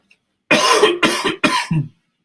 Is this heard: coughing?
yes